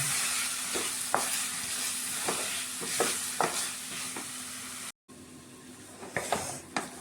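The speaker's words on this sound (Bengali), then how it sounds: "আলু দিয়ে এখন আমি আরেকটু ভালো করে ফ্রাই করব।" Potatoes fry in a pan with already-fried spices for a Bengali aloo bhujia, giving a steady close sizzle broken by repeated scrapes and clinks of stirring, with no talking.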